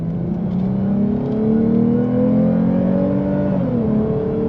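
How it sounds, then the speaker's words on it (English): A 2022 Lexus IS 350 F Sport sedan's engine revs up steadily, its droning pitch climbing over several seconds, then dips briefly as if shifting before rising again, close and loud. "Let's go ahead and give it a little gas."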